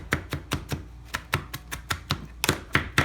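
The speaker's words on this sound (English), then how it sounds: "you know you gotta chop your onions" A knife chops onions on a board in a brisk, uneven rhythm of sharp, close taps, about a dozen strokes with short pauses between, with no voices.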